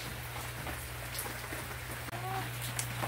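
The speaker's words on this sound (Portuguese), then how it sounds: "E aí quando chove é assim, ó," Steady rain falling in a backyard, a soft continuous patter of drops close by, with a low hum underneath and a brief clatter midway.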